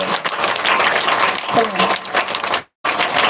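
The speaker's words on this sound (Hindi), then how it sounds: "पूरा जोर जोर ताली बजाइए" A congregation claps loudly and steadily during an Easter worship meeting, with voices sounding over the clapping and a brief moment of total silence near the end.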